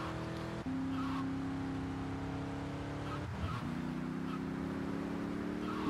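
An Infernus sports car engine in GTA Vice City Definitive Edition on PS5 revs steadily at high pitch, with a gear shift and a brief tire scrape midway, loud and close throughout.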